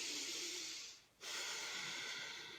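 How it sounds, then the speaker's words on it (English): Deep, steady breathing in and out through the nose during a guided breathing exercise with full abdominal expansion, heard as a close, airy hiss that fades briefly between breaths before resuming. "So nice deep breaths, abdomen full up and out."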